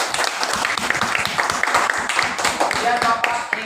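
Classroom applause for a student, a brisk, steady round of clapping from a group of pupils, fairly close, with faint voices mixed in.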